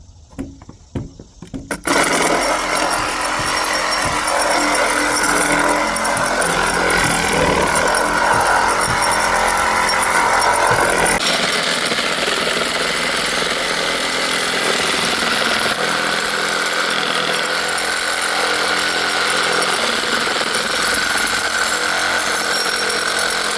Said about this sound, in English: we're gonna go ahead and cut up this big pallet with the Sawzall